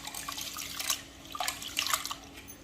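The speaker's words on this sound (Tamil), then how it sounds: "நல்லா இந்த மாதிரி பிசைஞ்சு கழுவணும்." Red rice is kneaded and washed by hand in a bowl of water, giving soft, close sloshing and splashing with irregular squelchy surges.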